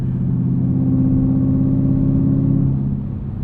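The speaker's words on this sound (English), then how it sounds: "I bet it's super loud." A Chevrolet Camaro SS 1LE's engine runs loud and steady, a deep harmonic drone from inside the car that holds for about three seconds before easing slightly.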